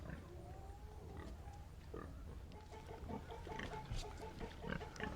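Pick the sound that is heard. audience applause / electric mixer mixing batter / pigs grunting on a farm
pigs grunting on a farm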